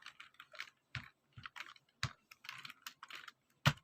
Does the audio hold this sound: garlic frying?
no